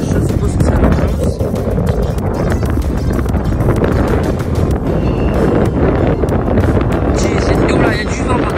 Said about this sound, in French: il y a du vent par contre